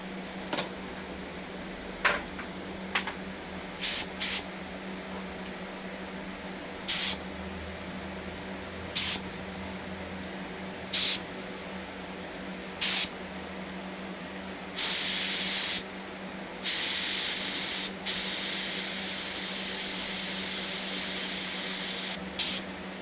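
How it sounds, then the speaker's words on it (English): Short hissing bursts from a spray gun with a new, wide-spraying tip applying 2K clear coat repeat at intervals, then give way to longer, sustained blasts of spraying near the end. "Look how wide this thing is spraying"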